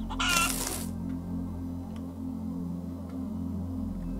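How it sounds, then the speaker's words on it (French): A chicken in the video game Breathedge lets out a short, loud burst of clucking at the start, then falls silent over a steady low game-ambience hum with faint ticks. "on sort le poulet"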